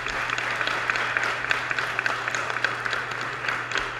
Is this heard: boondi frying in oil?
no